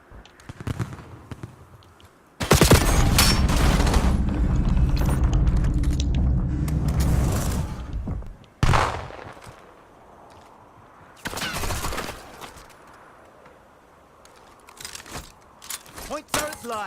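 Sustained automatic turret gunfire in the Black Ops 7 beta, a loud dense burst of rapid shots lasting several seconds, followed by scattered single shots and game effects amid quieter stretches.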